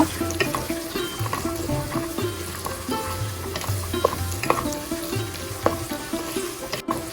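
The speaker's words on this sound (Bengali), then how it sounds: "এখন আমি পেস্টটা কিছুক্ষণ বেজে নিব যাতে পেজের কাঁচা গন্ধটা না আসে" Spice paste with green chilies frying in a pan for a tripe curry gives a steady crackling sizzle, with repeated scraping strokes as it is stirred, close and moderately loud.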